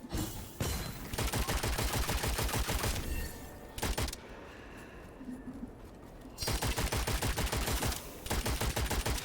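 Bursts of rapid enemy gunfire in the video game Witchfire, loud dense volleys that stop for about two seconds of near quiet before another sustained barrage resumes.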